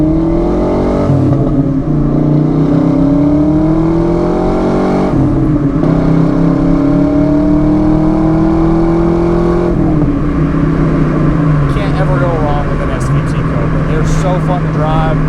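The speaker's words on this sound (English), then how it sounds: "We're going to test out that Cobra 5-liter." A 1993 Ford SVT Cobra Fox body with its 5-liter engine accelerates on a test drive, the engine note rising through gears with loud in-cabin droning and shifts, a voice talking over it.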